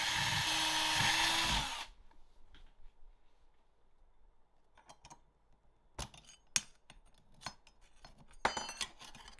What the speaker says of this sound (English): And drill it out.